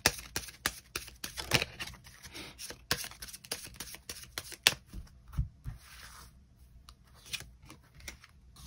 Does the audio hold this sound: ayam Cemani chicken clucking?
no